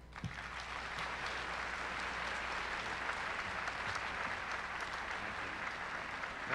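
An audience at a university opening-day address applauds as the university president is introduced. The clapping is steady and continuous but sounds faint and distant throughout.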